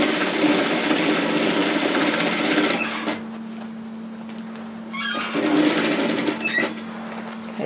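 A sewing machine stitches across the seam of a reusable coffee holder bag with a strap in place, running in two steady whirring bursts with a quiet pause between them.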